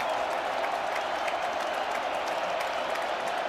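A Camp Randall Stadium college football crowd, Illinois against Wisconsin, roars in a steady, dense wash of cheering and applause that holds at full volume throughout, with faint commentary underneath.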